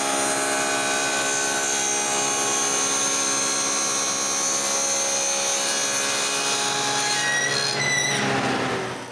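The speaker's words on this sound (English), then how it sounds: "Next, I can slide the turning into those and cut the groove with a dado stack." A dado stack spins in a saw, cutting a groove into a wooden turning for a nutcracker: a loud, steady high whine runs throughout, then the tone shifts and rises briefly near the end as the blade bites the wood.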